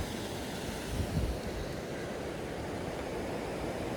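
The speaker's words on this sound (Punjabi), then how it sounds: "ਪਾਣੀ ਇੱਥੇ ਦਾ ਭਾਈ ਪੂਰੇ ਘੁੰਮ ਘੁੰਮ ਕੇ ਜਾਂਦਾ ਪਿਆ" Floodwater of the swollen Swan river rushes and swirls past, a steady, dense roar filling the scene without pause.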